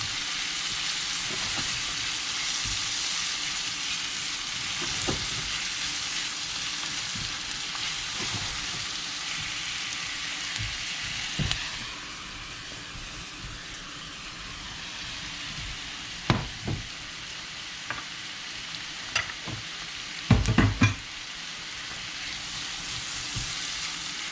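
Green and yellow peppers sweat down in a hot pan with a steady, close sizzle that runs throughout, broken near the end by a few sharp clanks of stirring.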